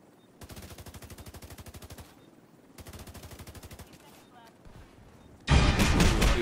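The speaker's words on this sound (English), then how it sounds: "who the hell is shooting me?" Rapid automatic gunfire bursts in The Division 2 online shooter, two long sustained volleys with a brief pause, then a louder, harsher blast of fire close by at the end.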